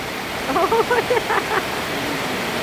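Rain pours down at a house in a steady, hissing wash, while a voice speaks briefly over it and then falls away, leaving the downpour alone.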